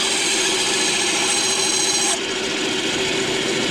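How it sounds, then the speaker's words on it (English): Steady, loud rasping scrape of a blade's back edge shaving a wooden wakebait lure body, continuous for about two seconds before easing slightly, no voices. "I use the back of the blade just to take a little bit off it"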